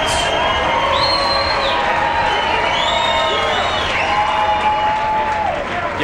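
A crowd at a professional taekwondo event cheers and applauds after a fight, with dense sustained clapping, whoops and high shouts throughout, loud and close.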